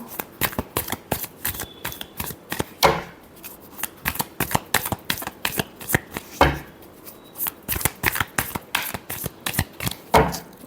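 Tarot cards are shuffled by hand in repeated close bursts of crisp riffling and slapping, each flurry a rapid run of sharp clicks separated by brief pauses, with no one speaking.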